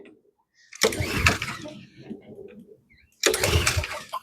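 A lawn mower engine being cranked to cut grass in a yard: two loud, close bursts of rough sputtering engine noise, separated by a short quiet gap.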